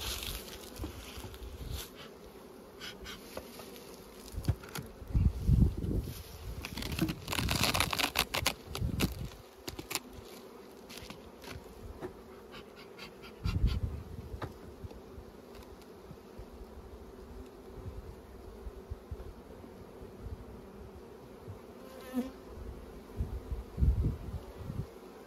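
Honeybees buzzing around a hive during late-fall sampling, a steady close drone with scattered louder bursts and tapping or clicking handling noises throughout, no talking.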